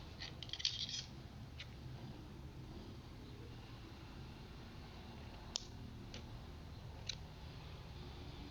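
Scissors cutting yarn while crocheting a bucket hat, a quick cluster of close, crisp snips at the start, then a few isolated faint clicks over a steady low background.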